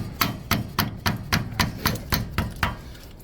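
A hammer drives a chisel against the brake hub lock nut of a Winnebago RV, striking about eleven times in a steady, even rhythm of ringing metallic blows.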